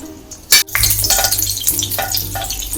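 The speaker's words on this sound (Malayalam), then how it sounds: "ടേബിൾ സ്പൂൺ ഓയിൽ ഒഴിച്ചു കൊടുക്കാം അതിലേക്ക് ഒരു ടീസ്പൂൺ ബട്ടറും ഇട്ട് കൊടുക്കാം" Oil and butter sizzle in a hot pan while pav bhaji is being made. A sharp clatter comes first, then a steady, close frying hiss with small pops, and no one talks.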